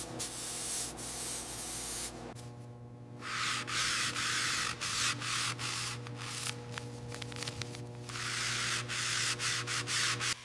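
Sanding out marks on fresh tuxedo black paint on a 1928 Isotta Fraschini 8A, a steady abrasive rubbing that runs continuously and loudly, with strokes pausing and resuming in rhythmic passes.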